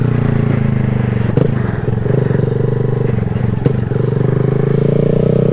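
A 2020 Honda Grom motorcycle is ridden on an early morning ride, its small engine droning steadily with a few brief clicks and dips as gears shift, close and loud.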